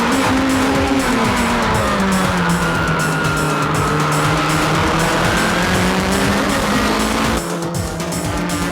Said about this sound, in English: Back to GT500, Orido is just booking with no one in front of him